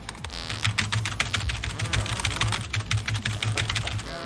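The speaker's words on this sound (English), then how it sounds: "I'm definitely not mashing this keyboard." A computer keyboard is mashed with rapid, heavy clattering keystrokes, loud and close, continuing steadily for several seconds over a low background hum.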